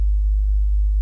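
A looped 808 bass from a hip-hop production sounds alone as a single deep, steady sub-bass tone sustained without variation for about a second.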